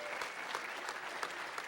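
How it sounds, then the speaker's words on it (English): A conference audience applauds contest winners with a brief burst of steady, fairly faint clapping from a crowd. "You should be applauding these people."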